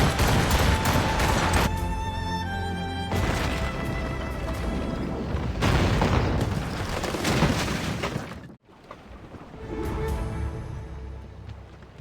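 Naval cannon fire on command in Assassin's Creed Rogue, dense booming volleys and crashes over loud battle ambience and music, with a sharp cut near the end before the din resumes.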